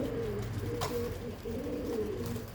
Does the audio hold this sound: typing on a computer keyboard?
no